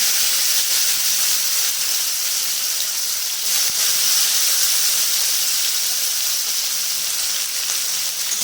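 Potato and bitter gourd pieces frying in oil in a kadai, a loud continuous sizzle and hiss with a few faint clinks of a spatula, no talking.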